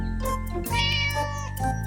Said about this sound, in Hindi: अरे बाप रे, एक बिल्ली!